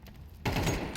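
Counter-Strike 2 gunfire during a professional match, a sudden loud burst of rapid shots after a short quiet lead-in, sustained to the end with a sharp final crack.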